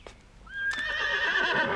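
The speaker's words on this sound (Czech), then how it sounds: "Od rána slyším venku řechtání." A horse, one of the newly arrived horses from Sichuan province, lets out a single rising, drawn-out whinny that wavers over a steady outdoor background hiss, moderately close and alone.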